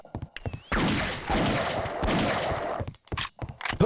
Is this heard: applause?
no